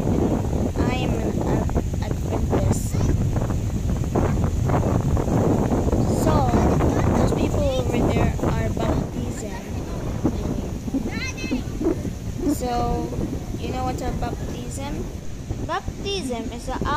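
Blustery seaside wind rumbles across the microphone in steady gusts while a person talks over it, with a dull roar of open air beneath.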